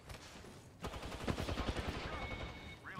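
Rapid automatic gunfire in the battle royale video game Apex Legends rattles in a dense burst of shots, heard fairly faint within game audio.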